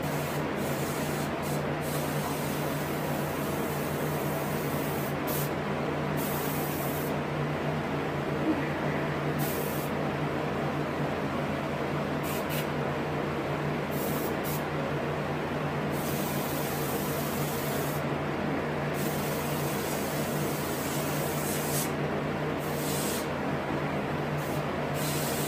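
An airbrush or spray gun hisses steadily while paint is sprayed onto a reproduction rainbow trout, with a continuous close spray and a low hum underneath and occasional brief pauses.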